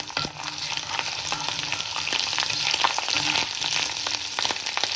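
Spices frying in hot oil give a dense, close crackling sizzle with scattered sharp pops and spits throughout, fairly loud and steady with no talk.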